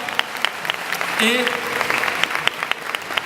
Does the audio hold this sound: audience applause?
yes